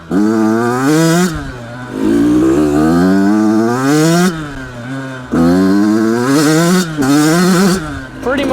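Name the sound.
dirt bike engine revving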